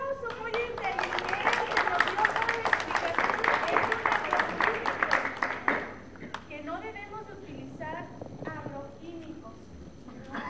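An audience claps loudly for several seconds at a school event. The applause then fades into scattered claps while people talk.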